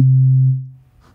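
A single deep, booming synthesized 808 bass kick with a pure sine tone that sustains briefly, then fades out.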